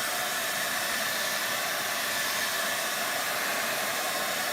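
A hair dryer blows steadily while drying milk paint, a constant close airy whoosh with no talk.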